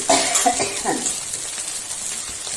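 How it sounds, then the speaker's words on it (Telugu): Amaranth leaves hiss and crackle in hot oil with garlic and onion, a soft steady frying sizzle with light stirring clinks near the start. "స్టవ్ పైన బాండ్లు పెట్టుకొని ఆయిల్ వేసుకోవాలి వెల్లుల్లిపాయలు ఉల్లిగడ్డలు వేసుకోవాలి తోటకూర వేసుకొని ఫ్రై చేసుకోవాలి"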